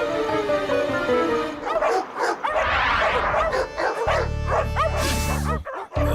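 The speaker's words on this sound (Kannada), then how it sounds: "ನಿಮ್ ನಾಯಿಗಳಿಗೆ ಶಾಂತಿಯಾಗಿರೋ ಕೇಳಕ್ಕಾಗಲ್ವಾ ನೀವು? ನೋಡು, ಬಾವ್ ಬಾವ್ ಬಾವ್ ಬಾವ್ ಬಾವ್ ಅಂತ ಹೆಂಗ್ ಬಡ್ಕೊಂತಾ ಇದಾವೆ." Cartoon dogs bark and yip loudly in a Motu Patlu animated episode, a rapid run of bow-wow barks and whimpers mixed with music and comic sound effects.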